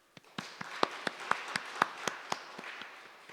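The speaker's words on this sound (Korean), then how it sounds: "하나님께 영광의 박수 함께 한번 올렸으면 좋겠습니다" A church congregation at an afternoon worship service gives a thin, scattered round of applause: a dozen or so separate hand claps spaced unevenly, fairly quiet and roomy, with no voices.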